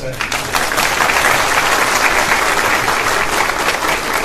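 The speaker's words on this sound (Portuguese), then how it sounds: "Palmas." Applause at a university lecture given by a politician, a thick, steady crowd clapping that fills the whole stretch without letting up.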